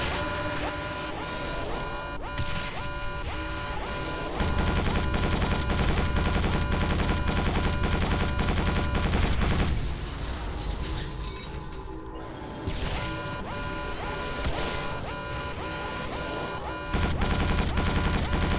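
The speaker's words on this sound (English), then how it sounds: "I will keep shooting you until you fucking stop moving." Dense, continuous gunfire and explosive blasts fill the Quake 4 video game's combat, loud and unbroken for the whole stretch with surging bursts and crashes and no clear gaps.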